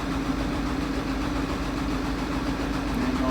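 Common rail diesel engine running steadily, a loud, even, close-up drone with a constant mid-low hum and rough vibration, no talking.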